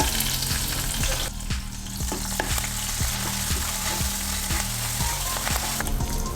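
Cashew nuts fry in hot fat in a pan with chopped ginger and a green chilli for millet pongal, a loud steady sizzle broken by regular, rhythmic stirring clicks.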